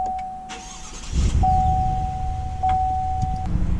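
A 2019 Chevy Silverado Z71 Black Widow pickup starts up, a steady electronic chime tone running before the engine catches and settles into a low, close idle rumble.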